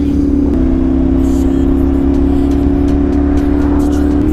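A CFMoto NK450 motorcycle rides in a group of five on a country road, its engine droning steadily and loudly throughout with a constant low hum and wind noise.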